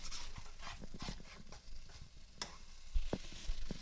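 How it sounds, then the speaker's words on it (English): One pound of turkey sausage cooks in a pan for soup, giving a soft, steady sizzle with scattered clicks and scrapes as the meat is stirred and broken up, no voices present. "I have the meat cooking, and it's just 1 pound of turkey sausage is what it is."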